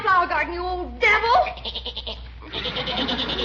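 A goat bleats in a vintage radio comedy broadcast, the wavering animal cries mixed closely with talking voices and a steady background hum.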